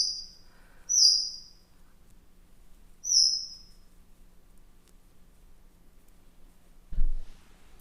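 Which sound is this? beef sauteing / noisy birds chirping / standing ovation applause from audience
noisy birds chirping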